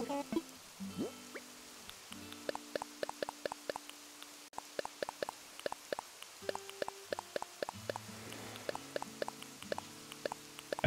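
Rain in Animal Crossing: New Horizons on Nintendo Switch, heard as a quick, steady series of sharp drip-like ticks over soft game music, fairly quiet and without talk.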